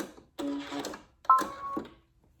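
A Brother Essence VM5200 sewing machine quilting fabric runs in two short whirring bursts of stitching, separated by a brief pause, close and fairly loud.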